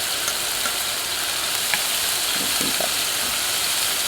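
Steak sizzles in a hot pan for a steak-and-potatoes dinner, giving a steady, close hiss and crackle that carries on without a break.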